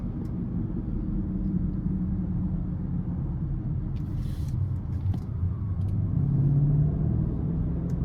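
A 2020 BMW X7 M50i with 108K miles accelerates onto the interstate, heard from inside the cabin as a steady low engine and road rumble that swells slightly near the end, with no voices.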